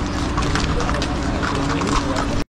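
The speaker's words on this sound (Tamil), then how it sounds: "குதிரை எல்லாம் டூரிஸ்ட்டை கூட்டிகிட்டு அப்படியே எக்ஸ்ப்ளோர் பண்ணிகிட்ருக்காங்க" Horses' hooves clip-clop steadily and close by as they carry tourists around the Karnak temple in Luxor, a continuous rhythmic clatter of footfalls with faint voices in the background.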